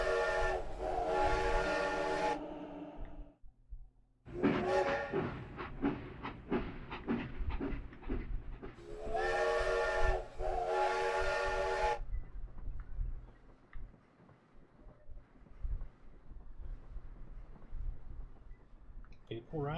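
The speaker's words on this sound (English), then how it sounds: "They like riding that train. It doesn't go very far, but they like riding it." In RollerCoaster Tycoon Classic on Nintendo Switch 2, a ride train blows its steam whistle in two loud bursts with chuffing and clattering between, and someone talks over part of the game sound.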